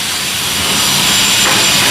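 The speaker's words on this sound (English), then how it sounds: "we're doing the sanding right now." Walls are sanded after putty work inside a construction site being prepared for painting, giving a steady, loud abrasive hiss that runs continuously with no pauses and no talk.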